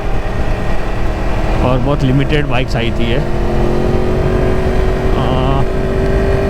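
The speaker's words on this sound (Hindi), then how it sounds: "इनलाइन 4 वाला साउंड है इसमें क्योंकि है ही इनलाइन 4" Yamaha R1 Crossplane, a limited-edition 1000cc inline-four sport motorcycle, hums steadily at low cruising revs beneath continuous close talking, its engine tone rising slightly late on.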